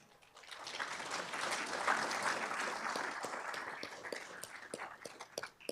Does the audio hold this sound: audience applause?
yes